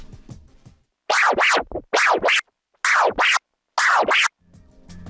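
Record scratching on a DJ controller without fader clicks: four loud pairs of back-and-forth scratch sweeps separated by short silences, with faint music before and after.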